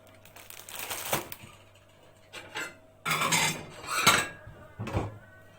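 A plate being taken out in a home kitchen, with several separate clinks and rattles of dishes and crockery, moderately close, in short bursts with pauses between them and no talking.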